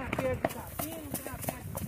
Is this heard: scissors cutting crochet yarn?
no